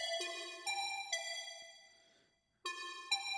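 A bright synth pluck drenched in Valhalla Supermassive reverb rings out in spaced, bell-like notes, each decaying into a long shimmering tail, with a short gap of silence before two more plucks.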